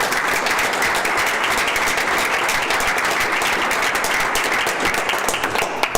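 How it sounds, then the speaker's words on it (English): A school board meeting audience in Baldwin City gives Mr. Scobie a round of applause: dense, even clapping from many hands, sustained and fairly loud throughout, with no talk. "Let's give Mr. Scobie a round of applause."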